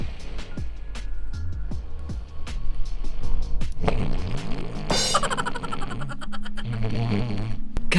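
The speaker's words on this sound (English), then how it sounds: "Yung snore niya," Loud snoring of a sleeping man comes as repeated rasping, buzzing breaths close to the listener, followed by a stretch of busier, noisier sound.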